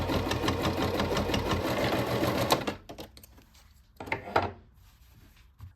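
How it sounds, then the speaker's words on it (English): A sewing machine quilts fabric with a rapid, close, rhythmic stitching clatter that runs for a few seconds, then stops, followed by a few short mechanical clicks and knocks. "That was the first time I have used my machine to quilt something."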